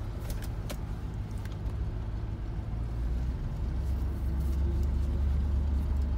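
Steady low engine hum and road rumble from a Range Rover 4.6 HSE pulling away slowly to about 5 mph, close and continuous with a slight rise in tone partway through, no talking.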